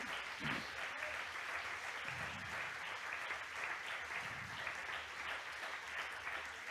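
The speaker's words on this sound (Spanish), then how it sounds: "Fuerte ese aplauso al Señor." A church congregation breaks into sustained applause during a sermon, many hands clapping steadily at an even loudness, with a faint voice briefly audible underneath.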